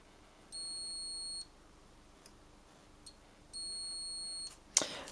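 Multimeter continuity beeps while probing the pins of a Panasonic MN86471A HDMI encoder chip on a PS4 board: two steady tones of about a second each, separated by a pause and a few faint clicks, with a sharp probe tap at the end.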